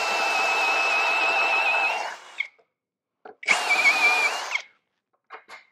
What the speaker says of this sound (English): Now I'm going to use that big drill bit.